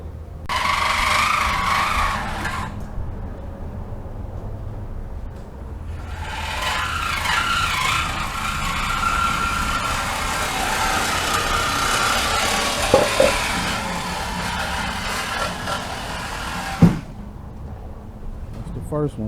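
A saw cuts through the rear exhaust mufflers of a Chrysler 300 Hemi in bursts of harsh grinding and rasping, with pauses between them, a sharp metallic clank near the end, and voices talking over parts of the work.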